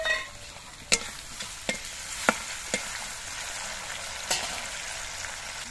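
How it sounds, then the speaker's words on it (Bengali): Onions and tomato fry in a pan, a soft continuous sizzle broken by several sharp scrapes and clacks as a utensil stirs them, close and alone without talk. "পেঁয়াজগুলো একটুখানি নাড়াচাড়া করে ভেজে নিয়ে এর মধ্যে একটা টমেটো দিয়ে দিচ্ছি।"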